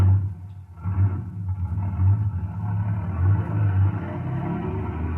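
An engine of the Brute, a heavy vehicle, rumbles low and steady as it is shoved into gear, a deep continuous drone with slight swells, alone without talk.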